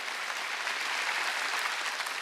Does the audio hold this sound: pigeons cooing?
no